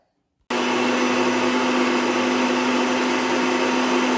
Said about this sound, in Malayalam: ഇനി നമുക്ക് ഇതിനകത്തേക്ക് കുറച്ച് വെള്ളവും കൂടെ ഒഴിച്ചിട്ടൊന്ന് അരച്ചെടുത്തിട്ട് വരാം.